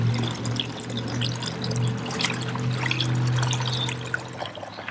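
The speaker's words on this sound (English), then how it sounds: "So I'm going to pour this junk out, and we're going to keep blasting it off." Rusty sludge of iron oxide and water pours out of an old M274A2 Mechanical Mule gas tank in a steady splashing stream lasting several seconds, with no talk over it.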